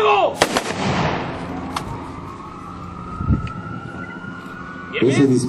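A sharp gunshot-like crack from a ceremonial rifle volley rings out near the start, followed by scattered Spanish commands and a second thud; a siren-like tone drifts underneath, and voices call out.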